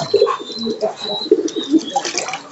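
A pigeon being bathed by its keeper coos in soft, close, repeated low calls with faint chirps, mixed with small splashes and handling noises.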